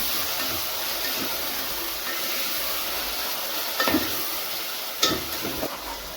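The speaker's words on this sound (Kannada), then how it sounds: "ಈಗ ನಾನು ಟೊಮೆಟೊ ಹಣ್ಣು ಹಾಕ್ಕೊಂಡು ಫ್ರೈ ಮಾಡ್ಕೊತಾ ಇದ್ದೀನಿ" Tomatoes frying with onions in a pan for vegetable upma, a steady close hiss of sizzling with a few scraping stirs and clinks toward the end, no voices.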